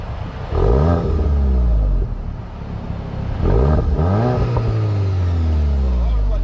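Engine revving from either a 2024 Toyota GR Corolla Circuit or a 2024 VW GTI 380, close and loud, two rising and falling revs before settling into a droning idle, with voices talking over it.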